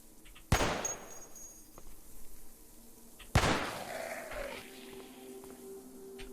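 Two loud gunshots from the zombie-survival game Cataclysm DDA, each a sharp blast with a ringing decay, about three seconds apart, with no talking over them.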